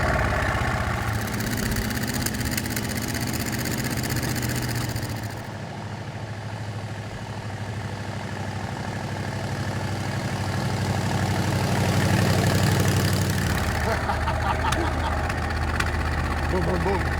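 Engine of the Munsters Drag-U-La coffin car with 10 carburetors, idling steadily with a deep, continuous rumble throughout, slightly rising and falling in intensity.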